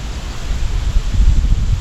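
Steady, broad roar of wind buffeting the microphone, heavy low rumble with gusts swelling and easing, no voices.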